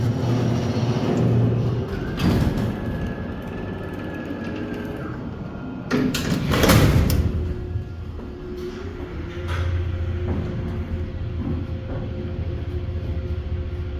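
Montgomery traction freight elevator doors at the Palisades Center in West Nyack slide open with a mechanical hum, a sustained whine and heavy clanks and rumbling bursts, rolling on at moderate loudness.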